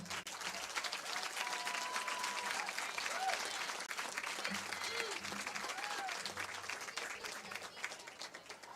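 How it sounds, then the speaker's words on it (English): A crowd applauds at a Little League ballfield plaque presentation, with steady clapping that holds for several seconds and faint voices underneath. "Help me give him a round of applause."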